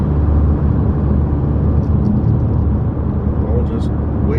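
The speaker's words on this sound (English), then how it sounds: "A big old heavy haul semi there." A heavy haul semi truck rolls past on a road, its deep engine and tyre rumble steady and close throughout, heard from inside a moving car while someone talks over it.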